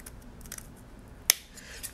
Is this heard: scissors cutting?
yes